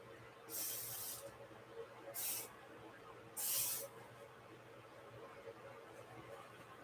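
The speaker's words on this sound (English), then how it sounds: "Sprayed with the silicone." Silicone spray for acrylic pouring hisses from an aerosol can in three short bursts, the first and last longer, against a quiet background hum.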